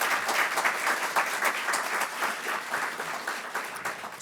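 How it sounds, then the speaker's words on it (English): Steady applause from an audience at a campus grand opening, continuous clapping filling the room for several seconds without pause. "So let's give everybody a big round of applause."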